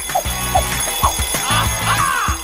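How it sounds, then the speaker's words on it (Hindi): A bell rings repeatedly in short bursts during a lighthearted real food versus chocolate food challenge, each ring clear and fairly loud, repeating in a steady pattern across the clip. "अरे, घंटी बज गई, छुट्टी।"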